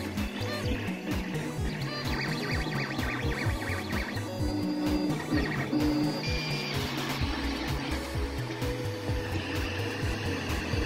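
A 3D printer resumes printing a mouse trap model, its stepper motors whirring and chirping in shifting tones over a steady mechanical hum, continuous and close.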